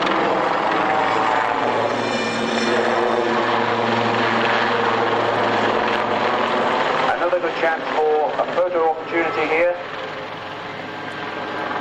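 A helicopter's steady rotor and engine roar fills the air, loud and continuous, at an airshow in Woodford in 1998, while someone talks over a public address system.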